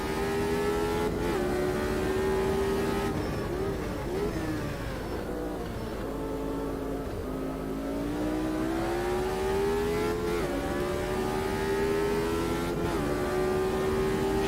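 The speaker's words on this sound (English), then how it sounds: "that familiar soundtrack of the Cosworth DFV" A Cosworth DFV racing engine in Automobilista 2 screams steadily at high revs, its pitch rising and dipping with gear changes and a few brief drops, loud and continuous with no talking.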